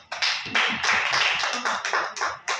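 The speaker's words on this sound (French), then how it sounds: "On va applaudir pour ça." A small audience claps in a quick, uneven burst, individual hand claps audible close by and fairly sparse, with a few faint voices underneath.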